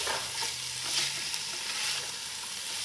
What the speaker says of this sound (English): So I'm going to now add my chickpeas.